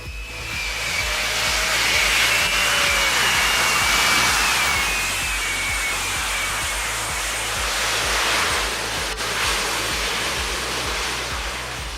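Jet engines mounted in the wheel hubs of a prototype hoverbike roar steadily for lift-off, a loud, continuous broadband rush with a rising whine layered on top.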